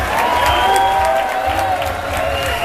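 Warm applause at an award presentation for a DJ, steady dense clapping from a crowd with some cheering and voices mixed in, continuous throughout.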